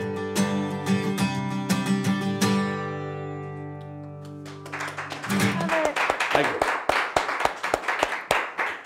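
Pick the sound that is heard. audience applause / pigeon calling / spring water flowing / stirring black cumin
audience applause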